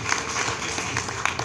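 A crowd at a public political rally in Ashok Nagar, Ward 101, breaks into dense, sustained clapping. The applause is a short burst of many hands, fairly loud and continuous throughout.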